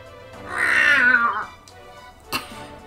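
One long, rising-and-falling meow from a cat in the video game Dragon Quest XI, fairly loud, followed by a brief click in an otherwise quiet scene.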